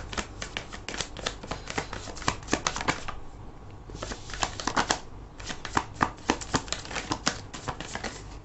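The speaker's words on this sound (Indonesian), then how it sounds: "Aku akan ambil 5 kartu." Tarot cards being drawn and handled during a love reading, with rapid crisp riffling and slapping card sounds close by. The handling comes in bursts broken by a brief pause, with no talking.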